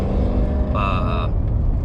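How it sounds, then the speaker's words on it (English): At 5 a.m., a Ford Mustang two cars ahead revs loudly while merging onto a highway. A deep continuous engine rumble runs throughout, and a brief rising whine swells for about half a second partway through. "car, it's a guy in a Mustang, 2 cars in front of me, trying to merge on the highway, but trying to be loud as possible at 5 a.m."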